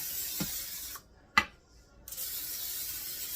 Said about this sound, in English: now your Bundt pan, make sure that you spray that even around the center